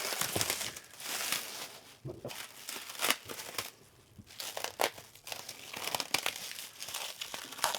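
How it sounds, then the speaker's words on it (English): Plastic wrapping is pulled and torn off a newly unboxed Kamado Bono Minimo Urban Edition grill, making continuous close, crisp crinkling and crackling with sharper tearing rustles throughout. "let's unwrap this plastic, because we've got more stuff inside"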